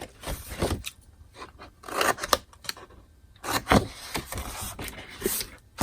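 Scissors trimming paper pieces for a magnolia flower craft, producing irregular close snips and rustling scrapes in short bursts, with no talking.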